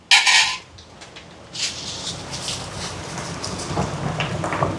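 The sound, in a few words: cooking pot being set down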